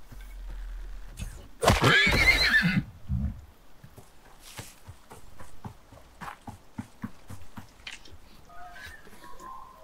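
A monstrous terror horse creature (Tyrannus) in the survival game Icarus lets out a loud, harsh neigh-like roar up close, followed by scattered thuds and footsteps with faint ambient game sounds.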